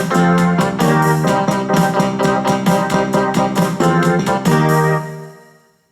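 A full recorded sequence plays back on a Technics SX-KN500 keyboard, with dense rhythmic chords and beats pulsing steadily before fading out at the end, loud and close.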